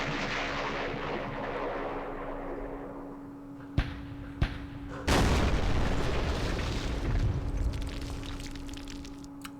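Mortar and artillery explosions in the Vietnam wargame Campaign Series Vietnam at Dien Bien Phu: two sharp cracks, then a loud booming blast that rumbles on as sustained roaring fire.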